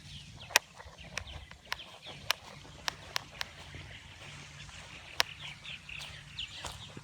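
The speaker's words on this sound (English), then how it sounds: "a lot of birds over here" Birds call with scattered short, sharp chirps at an irregular pace over a low, steady outdoor rumble.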